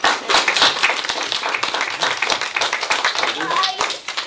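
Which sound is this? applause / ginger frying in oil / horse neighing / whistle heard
applause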